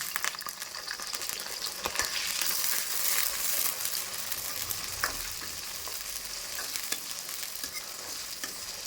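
Peeled garlic cloves and small shallots frying in oil with mustard seeds and urad dal, a constant close sizzle with occasional stirring scrapes and crackles, moderately quiet and without voices.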